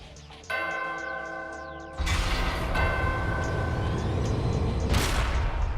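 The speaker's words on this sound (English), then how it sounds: "Ring the bell?" A game bell in Danganronpa: Ultra Despair Girls rings out with a resonant, church-like chime, struck once and then again with a louder clang that hangs and decays over a low rumbling backdrop.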